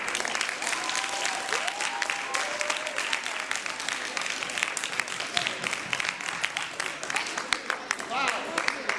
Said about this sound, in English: Give yourself an applause.